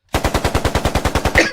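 A rapid burst of machine gun fire, about a dozen sharp, evenly spaced shots in quick succession, loud and close, ending with a slightly heavier final report.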